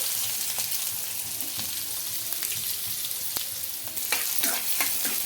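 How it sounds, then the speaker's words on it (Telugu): Chopped onions fry in a kadai with a dense, close sizzle and crackle. Spoon scrapes and small taps come in now and then and grow busier toward the end, with no voices. "చిన్న కట్ చేసుకున్న ఆనియన్స్ అయితే వేసుకుంటున్నానండి"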